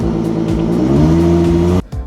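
A 2013 Ford Mustang with 305 horsepower accelerates hard from a standstill toward 60 mph. The engine drones loudly with steady rising harmonics, then the sound cuts abruptly near the end, like a gear change.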